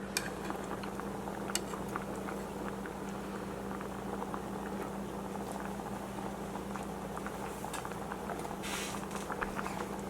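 A pot of braised lentils in tomato sauce simmers on medium heat, giving off a soft, steady bubbling and popping patter with a low hum underneath, faint and continuous throughout.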